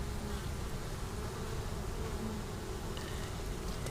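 A dense, steady buzz of many bees inside a queenless hive fills the air, a close continuous hum with no voices.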